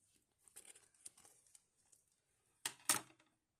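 A crinkly plastic surprise packet is carefully cut open: soft rustling at first, then two louder, sharp crinkling and tearing bursts near the end, close and with no talking.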